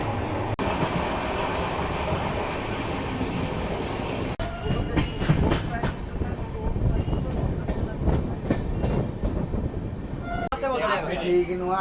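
Hirakhand Express train running on rails between Bhubaneswar and Koraput in monsoon weather, with steady loud rumble and clickety-clack of wheels over joints, occasional metallic squeals, heard continuously with background voices.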